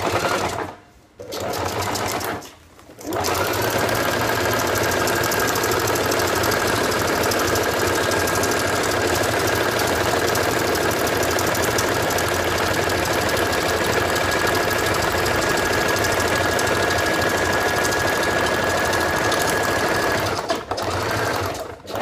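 Sewing machine stitching along the bottom seam of a recycled feed bag with ordinary thread, a steady close mechanical whir running continuously for most of the stretch after a couple of brief starts and pauses.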